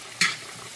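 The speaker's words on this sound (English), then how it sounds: "Ooh, onions and pepper, they smell so good. And you're cooking them." Onions and peppers cooking in a pan for an omelet give a steady faint sizzle, broken by one brief stir or scrape of a utensil against the pan.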